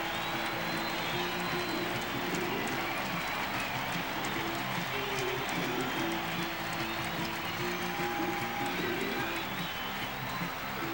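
A baseball stadium crowd roars and applauds steadily for a New York Mets home run against the Cardinals, a dense, sustained wall of cheering with a broadcaster's voice running faintly beneath.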